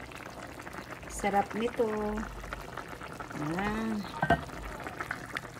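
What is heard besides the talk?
chicken tinola soup with mushrooms boiling in a pot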